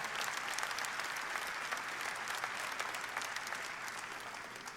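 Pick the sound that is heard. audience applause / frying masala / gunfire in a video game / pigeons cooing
audience applause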